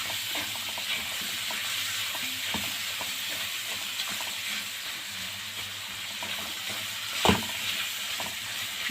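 Onion sautés with spiced chicken gizzards in a pan, a continuous close sizzle with soft stirring scrapes and one brief louder knock near the end, no speech.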